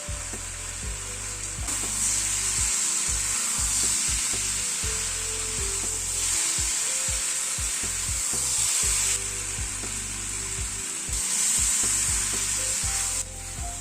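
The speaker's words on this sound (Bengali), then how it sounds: "আরো মিনিট 2 মতো তরকারিটাকে একটু কষিয়ে নিলাম।" Vegetable curry with sweet chili sauce stir-frying in a pan, a continuous close sizzle with bursts of stirring and scraping throughout, no voices.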